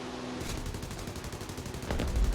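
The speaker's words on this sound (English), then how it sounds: "I can just hear that 20mm rattling off." A 20mm aircraft cannon fires during War Thunder air combat, a fast rattling burst of shots at a steady rhythm under the game's engine drone, growing heavier near the end, without any talk.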